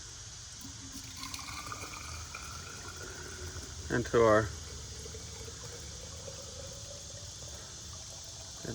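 Boiling water is poured carefully into a half-gallon mason jar for sweet tea at an overlanding camp, a brief splashing fill lasting under a second amid quiet outdoor ambience, with someone speaking around it.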